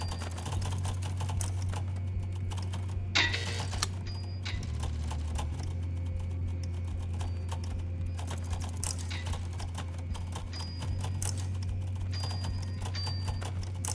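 Numbers are typed on a computer keyboard's numpad, with scattered quick key clicks over a steady low background hum. The taps come in short irregular bursts, close and fairly quiet, and nobody speaks.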